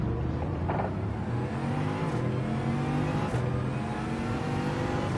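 A Bugatti's engine in Gran Turismo 7 on the Nürburgring drones steadily and loudly for the whole stretch, a continuous mechanical hum with slight shifts in pitch as it holds speed and revs.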